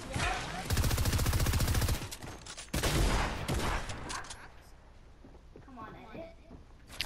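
Minigun fire in the Fortnite video game: loud, continuous rapid bursts that roar for over a second, pause, then fire again, with excited talking over the gunfire.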